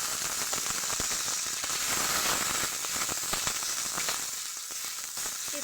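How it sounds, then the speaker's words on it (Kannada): Green chilies fry in a little oil with a close, continuous crackling sizzle, dense with small pops, easing slightly toward the end, with no talk over it. "ಸ್ವಲ್ಪ ಎಣ್ಣೆ ಹಾಕೊಂಡು ಕಿಶಿ ಚೆನ್ನಾಗಿ ಹುರ್ಕೋಬೇಕು ಮೆಣಸಿನ್ಕಾಯಿ ಸ್ವಲ್ಪ ಎಣ್ಣೆ ಹಾಕ್ತಾ ಇದ್ದೀನಿ"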